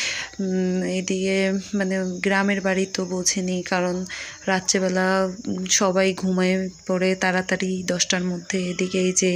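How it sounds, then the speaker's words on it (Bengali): Crickets chirp steadily at night in a rural village, a continuous high trill running beneath a person talking throughout. "ওদিকে ঝিঝি পোকার ডাক,"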